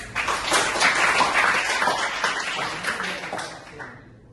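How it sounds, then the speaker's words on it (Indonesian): Students in a vocational high school classroom in Jakarta clap together for a few seconds, a fairly close burst of mixed handclaps that thins out and stops near the end. "Tepuk tangan dulu."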